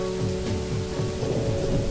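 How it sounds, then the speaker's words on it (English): Rain sound effect in an audio drama, a steady wash of falling rain with a low rumble and a sustained tone underneath, no voices. "The sound of rain kept falling, but the gunshots stopped."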